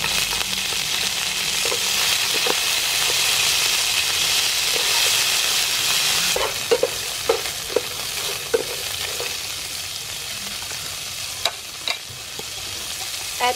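Young green pepper stir-fried with mussels in a pan, a steady close sizzle and hiss with scraping stirs and a few sharp clinks of the utensil against the pan later on.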